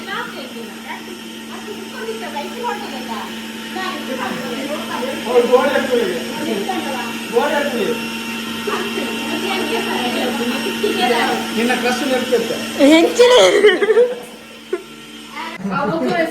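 A kitchen mixer grinder runs with a steady, continuous electric whir during home biryani cooking, droning under nearly constant conversation before cutting off near the end.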